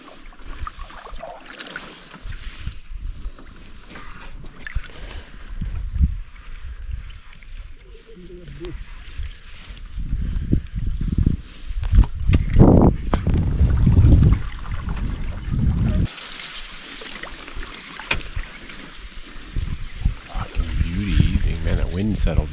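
A canoe is paddled on open water during an Alaska moose hunt, with soft splashing paddle strokes and water sloshing mixed with wind buffeting the microphone; people talk intermittently over it.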